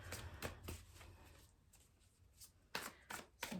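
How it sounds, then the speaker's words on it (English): Tarot cards are shuffled by hand in quiet, soft rustling bursts, riffles and slides repeating irregularly and close by, with no speech. "So I'm going to shuffle until I feel guided to stop."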